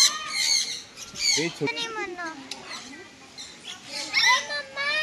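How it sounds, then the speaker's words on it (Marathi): Blue-and-gold macaw squawking at a park aviary, harsh bursts recurring over about five seconds amid other bird calls and children's voices in the background. "blue eight golden Macau"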